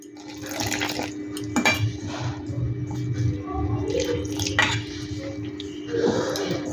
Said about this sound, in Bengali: এর মধ্যে আমি জল দিতে থাকবো।